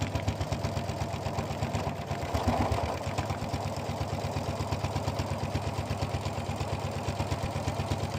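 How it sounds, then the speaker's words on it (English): A serger runs steadily, stitching the inside seams of a denim tote bag made from upcycled jeans, with a close, continuous mechanical hum and fast rhythmic clatter lasting the whole stretch. "I'm actually gonna serge the inside seams"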